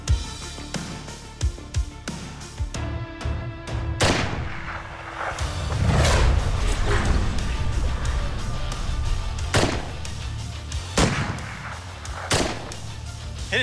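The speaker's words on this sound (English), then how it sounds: "Okay, you have one round. That's the safety. Click to the left. And fire when ready." A single rifle round is fired at a road barrel during a stunt test, giving one sharp close report among other thumps and booming impacts over steady background noise.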